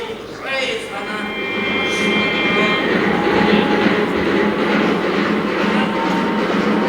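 A passenger train runs at a station stop, giving a loud steady rumble with rhythmic clickety-clack and wheel noise, with a voice speaking over it.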